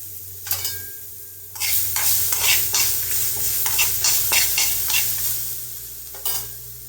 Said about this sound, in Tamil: போட்டு வறுத்துக்கோங்க. அது கூட தேங்காய், அப்புறம் புளி,